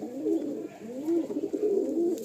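Kasuri Dubbale pigeons of Pakistani breed coo close by in a series of rolling, throaty calls that rise and fall in a repeating rhythm, alone and clear.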